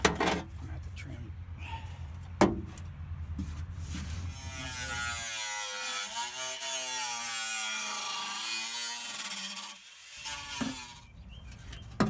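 Power trimming of a battery tray panel on a Porsche 944 under restoration, with a steady high whining buzz of a cutting tool running for several seconds between louder clunks and handling noises, close by.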